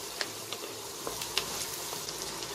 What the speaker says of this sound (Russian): Жарим все на среднем огне.